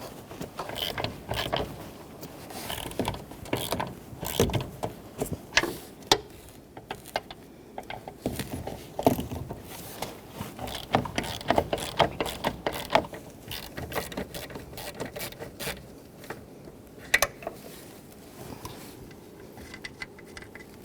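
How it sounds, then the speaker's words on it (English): A ratchet with a 13 mm socket and extension loosens the brake master cylinder mounting bolts on a 2007-2017 Jeep Patriot, giving repeated close clicking ratchet strokes in uneven bursts with metallic creaks and pauses between. "with a 13 millimeter socket and extension, I'm going to break these mounting bolts free from the brake booster"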